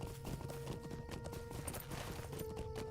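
Horse hooves clip-clop steadily in the online game Lord of the Rings Online (LOTRO), an even trotting rhythm running throughout under constant game music and ambience.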